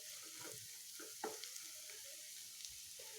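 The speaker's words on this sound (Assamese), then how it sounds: "ইয়াক আমি এনেদৰে সলাই সলাই পুনৰ 5 মিনিটমানৰ কাৰণে ভাজি ল'ম" Dry fish chutney sizzling faintly in a pan while being stirred, soft scraping strokes over a steady low hiss, quiet and close with no talking.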